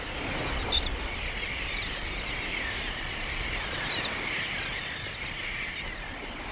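Many parent and chick birds call in a thriving nesting colony on an Egmont Key beach in Tampa Bay, with faint high chirps scattered over a steady, loud wash of background noise.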